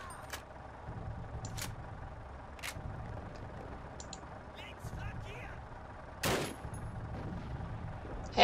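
Sporadic gunshots in Call of Duty, sharp isolated cracks spread across a steady game background hum, with one louder burst near the end.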